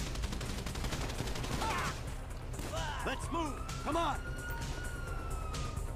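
Gunfire in the video game GTA V, bursts of shots mixed with a wailing police siren and game background noise, with people talking over it.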